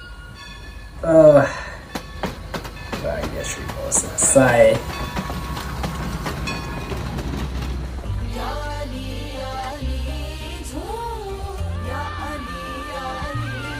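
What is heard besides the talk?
train sound in a song video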